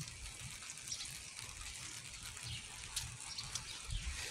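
Rain falls on a flooded street while water rushes and gushes past, a steady, close, broadband wash with no pauses and no talking.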